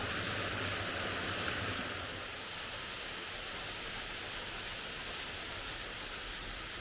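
Loyalsock Creek rushes past near the Haystacks by World's End State Park, a steady broadband hiss of flowing water, close and constant with no voices.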